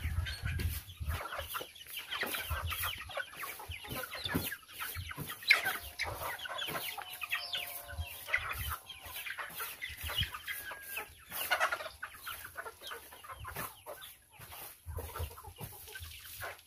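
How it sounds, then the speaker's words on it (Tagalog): Pet chickens cluck steadily in a garden with several hens overlapping, mixed with other bird calls; the sound is continuous and moderately close, with no talking. "yung mga alagang manok"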